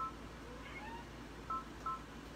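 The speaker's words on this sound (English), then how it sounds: "She's meowing." A cat meows faintly in a quiet room, giving two or three short, thin calls that come late and sit well behind low background hum.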